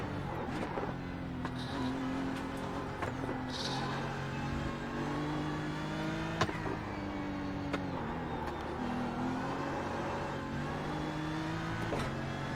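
Race car engine on the Sebring circuit in iRacing, droning steadily and loud as it holds revs, with repeated gear-change dips and rises in pitch, heard alone without talk.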